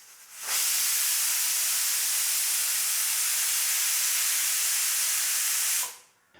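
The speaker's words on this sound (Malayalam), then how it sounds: "അപ്പോൾ നമ്മുടെ കുക്കർ ഒരു വിഷിലടിച്ച് നമ്മളത് തുറന്ന്" A pressure cooker on the stove venting steam while cooking chicken biryani gives a loud, close, continuous hiss that starts abruptly, holds steady for about five seconds, then cuts off.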